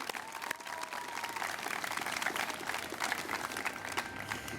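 Audience applause at an outdoor 200th-anniversary celebration and parade in Elyria, a steady patter of many hands clapping throughout, moderately loud and dense, with no talk over it.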